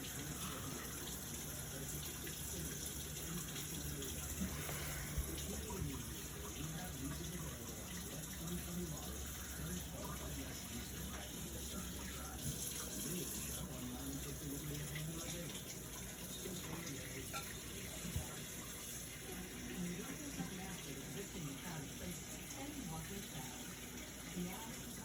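Kitchen tap running warm water for bagel and roll dough, a faint continuous splashing stream under a steady background hum throughout.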